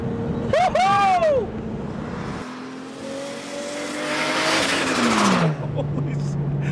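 An HKS Zero R car pulls hard in third gear as boost kicks in, its engine note climbing loud and close through the run, with excited voices shouting over it.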